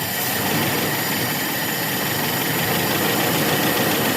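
An idling engine running with a rich idle fuel mixture gives a loud, steady, unbroken drone with a rough vibrating undertone, heard close up with no talking.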